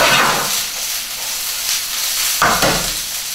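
Onion and bell pepper fry in a pan with a steady, close sizzling hiss that flares briefly toward the end.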